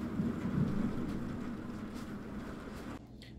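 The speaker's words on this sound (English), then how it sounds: "this rain is insane in New York" Heavy rain pouring outside in New York during a storm, a dense steady wash that stays loud for about three seconds before abruptly dropping to a quieter hiss, with no talking.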